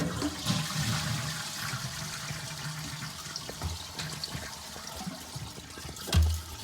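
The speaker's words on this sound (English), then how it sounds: "So again, we're just going to flush the toilet." A household toilet flushes during a repair, with water rushing and gurgling steadily through the bowl, fairly quiet and close, ending with a short louder thunk near the end.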